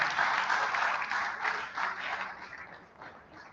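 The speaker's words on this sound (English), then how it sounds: "I think we ought to give President Muhammadu Buhari a round of applause for signing" An audience at a disability voting-rights event gives a round of applause: a burst of steady clapping, moderately loud at first, then thinning and fading over a few seconds.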